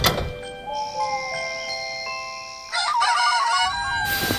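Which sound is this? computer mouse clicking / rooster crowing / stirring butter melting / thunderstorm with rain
rooster crowing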